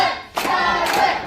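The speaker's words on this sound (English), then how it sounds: "You hear the crowd trying to bring Tyler back to life." A wrestling crowd claps during a Saturday Slam match, two quick bursts of hand claps rising from a steady crowd murmur in a short, close, loud snippet.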